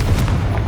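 A Confringo fire blast spell in the Hogwarts Legacy video game, a very short, loud, booming burst with a heavy low thump and crackling edge.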